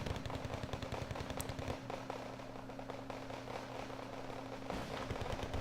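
Rapid bursts of gunfire ring out nonstop in a Wargame battle as units get hit near a Belarus border fight, dense crackling volleys with heavy low rumbling under them.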